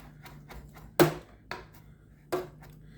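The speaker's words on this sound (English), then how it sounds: "Just a quick little cut, repile, knife the other way." A knife chops fresh basil on a cutting board for a tomato cucumber salad, with a few distinct, sharp strikes spaced irregularly and heard up close in a quiet kitchen.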